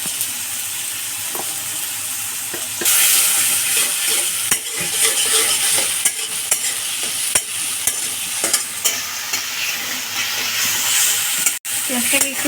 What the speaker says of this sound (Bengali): পেঁয়াজটাকে একটু নরম করে নিচ্ছি ভাজা ভাজা করে।